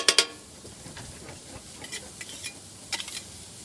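Food sizzling on a Blackstone griddle as a little oil is mixed in for combination fried rice, with sharp metal spatula scrapes and clinks near the start and again later over a soft steady frying hiss.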